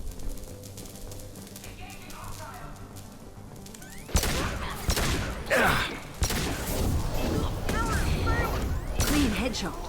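Gunfire in Mass Effect breaks out suddenly partway through, with rapid, loud shots and impacts over game music, following a quieter stretch of ambient combat sound.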